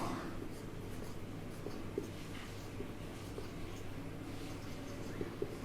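Hand writing on paper during an accounting lesson, faint soft scratchy pen strokes with a few light taps, quiet and close over a low steady background hum.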